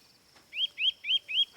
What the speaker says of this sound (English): Will you stop that chirping, you little rascal?